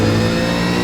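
A V8 race car in iRacing at Okayama's full circuit, its loud close engine roaring in a steady, rich drone with a brief dip and rise in pitch as it drops into second gear.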